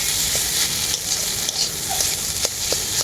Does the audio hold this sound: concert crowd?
no